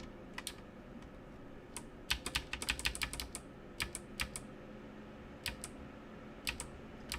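Typing on a modded GK61 hot-swappable mechanical keyboard, crisp clicky keystrokes in irregular bursts, with a quick flurry of rapid presses in the middle and scattered single taps, close and fairly quiet.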